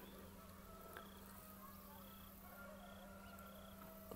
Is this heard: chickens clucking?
yes